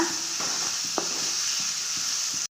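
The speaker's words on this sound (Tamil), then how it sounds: "இந்த வெங்காயம் நல்லா கொஞ்சம் வதங்கினதுக்கப்புறம் நம்ம காயெல்லாம் சேர்த்து வதக்கலாங்க" Onions sautéing in a pan for vegetable momo filling, a steady bright sizzle with a spatula scraping and clacking in irregular strokes, close and continuous until it cuts off abruptly.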